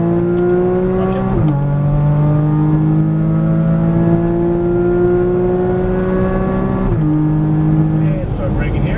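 Porsche Cayman GTS on a race track, engine loud and close as it accelerates, with rising revs broken by two quick upshifts, while a driving instructor talks over it.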